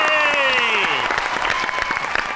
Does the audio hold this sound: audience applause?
yes